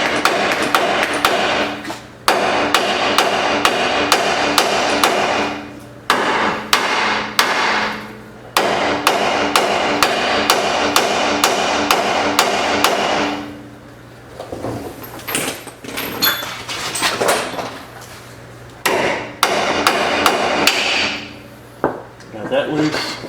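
Repeated metal hammer blows on a nut during wheel bearing replacement on a 2009-2014 Ford F-150, loud and close, coming in rapid bursts separated by short pauses, with some quieter clanks and shuffling between strikes.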